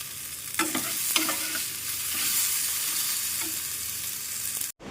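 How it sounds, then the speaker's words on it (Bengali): Previously fried cauliflower reheating in a pan, with a constant sizzle of hot oil and several distinct spatula scrapes and taps at irregular intervals, close by and with no talking. "ফুলকপি ভেজেছিলাম, সেগুলো একসঙ্গেই গরম করে নিচ্ছি।"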